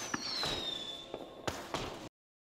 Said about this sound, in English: they got the fireworks in the back